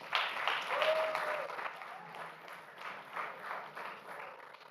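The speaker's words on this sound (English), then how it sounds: "I think that clap was meant for me." An audience claps at an education forum in Uganda, moderately loud at first and then tapering to a softer, steady patter over several seconds.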